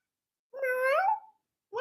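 A cat gives a single clear, drawn-out meow, close and fairly loud, followed by silence and the start of another meow right at the end.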